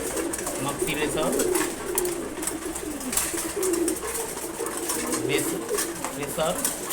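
A flock of Chila pigeons keeps up rolling, overlapping coos at feeding time, steady and close against a dense rustling background, with voices faintly mixed in.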